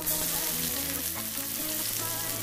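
Chopped onion with green chili pieces hitting hot oil spiced with mustard seeds, a steady dense sizzle that stays loud and close throughout, no talking.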